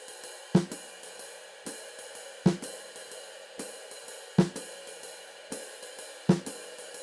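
Snare comping in a jazz pattern on the and of 3, played a little faster: a crisp snare accent repeats about every two seconds between quieter evenly spaced strokes, close and steady with no speech.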